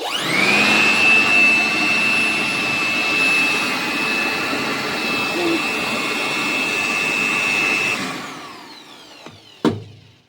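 A small handheld vacuum whirs with a steady high-pitched whine for about eight seconds, then switches off, followed by a couple of knocks.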